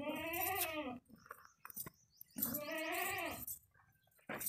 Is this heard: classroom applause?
no